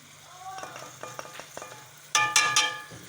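Steady frying sizzle of minced mutton as turmeric is stirred in, a spoon scraping and stirring in a pan, a few louder clatters near the end.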